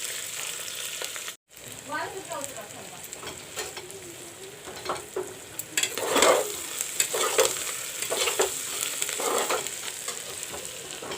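Sliced onions frying in oil in a pan, a constant close sizzle punctuated by scraping and clattering stirring strokes, with a brief dropout early on and busier stirring later.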